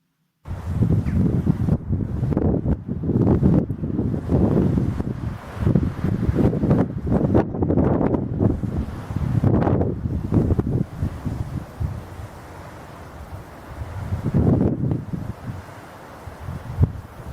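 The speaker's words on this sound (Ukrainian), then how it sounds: "подув сильний вітер." Strong gusts of wind roar and buffet the microphone in loud surging waves, easing briefly before another gust builds near the end.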